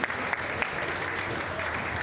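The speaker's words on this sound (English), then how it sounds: "Give a big applause to Mr. Darren." Audience applause at an esports opening ceremony for a Sarawak state selection event, a steady wash of clapping from a crowd that holds throughout at moderate loudness.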